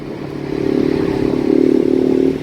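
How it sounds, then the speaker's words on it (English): A 2020 Ford Mustang 55th Anniversary Edition with the 2.3L engine revs in track mode, a loud, steady droning exhaust note that swells and climbs for about two seconds before cutting off. "in this track mode again, the note, as it gets higher in the RPM, as it releases itself, it sounds so good"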